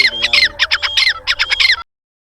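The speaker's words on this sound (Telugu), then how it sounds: "పిట్టలకైతే రావడానికి సౌండ్ పెట్టుకున్నాము" A recorded bird call played through a speaker to lure birds during tribal bird hunting: a loud, close run of about seven sharp, repeated squawking calls in quick rhythm, then abrupt silence.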